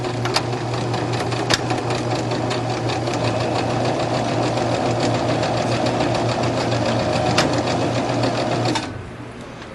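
Sewing machine stitching forward then in reverse on a small strawberry pin cushion, a loud, steady close-up whir with rapid needle clatter that stops just before the end.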